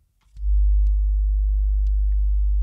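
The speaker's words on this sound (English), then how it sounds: "So now we have 50 hertz sine wave on channel 2." A steady 50 hertz sine tone from a Behringer X32 mixer's built-in oscillator fades in quickly and holds as a loud, constant low hum, with a few faint clicks over it.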